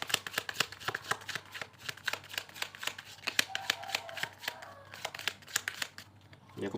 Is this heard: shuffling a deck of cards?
yes